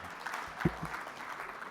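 Faint, distant audience applause fills a conference hall at an annual meeting before a keynote, a soft continuous patter of many hands with a voice breaking through briefly.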